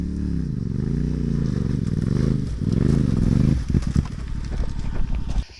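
Motorcycles on a hot Bosnian roadbook trail ride pass close by, a loud engine drone with rising and falling pitch for several seconds, then clattering and rough revving as the bikes move off.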